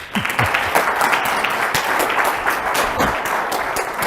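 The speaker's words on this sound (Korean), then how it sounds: "이거 맞는 것 같으면 박수 한번 쳐주십시오." A lecture audience applauds together, a dense, steady patter of many hands clapping that carries on for several seconds at moderate loudness, with no speech on top.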